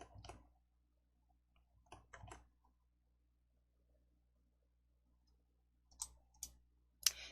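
Sparse computer mouse clicks in a quiet room: a few soft isolated clicks early, then a quick cluster of three sharper, louder clicks near the end, with near silence between.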